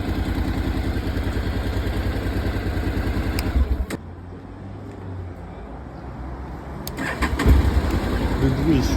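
A Yamaha TMAX 560 Tech Max scooter engine runs steadily with a low rhythmic thrum, cuts out briefly, then is restarted with the start button and settles back into a loud idle.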